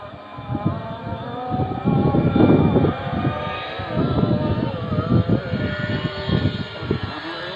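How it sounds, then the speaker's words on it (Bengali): A Bangladesh Air Force K8 fighter jet's engine roars loud and close with a steady, rumbling drone that swells and holds throughout. "এটা বাংলাদেশ বিমান বাহিনীর যুদ্ধ বিমান, আরেকটা নাম K8"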